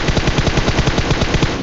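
An M4 rifle in the PUBG Mobile game fires a loud, rapid, evenly spaced burst of automatic gunshots, close and unbroken, with no talk.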